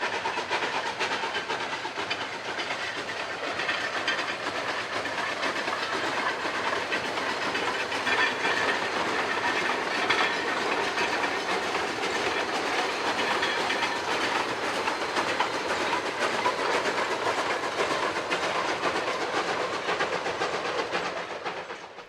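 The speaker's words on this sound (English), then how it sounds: "Engine 486 took the second train out of town with our final run-by." A Durango & Silverton train pulled by steam locomotive Engine 486 rolls past in a steady, sustained rumble and hiss with clickety-clack wheels on the rails, loud and continuous throughout with no voices.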